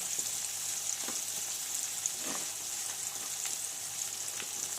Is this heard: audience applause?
no